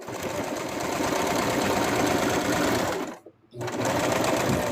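A sewing machine stitches a plush toy in a dense, fast mechanical whir that runs continuously, stops briefly for about a quarter second, then resumes, close and loud with no voices.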